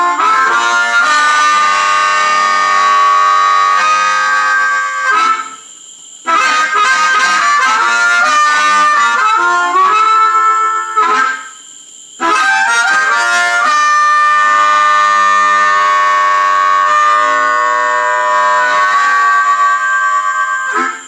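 A blues harmonica plays through a vintage Electro-Voice EV630 microphone into a Fender Blues Jr III amp, giving a loud, growling amplified tone. Sustained bent notes and phrases are broken by two short pauses, with no voices.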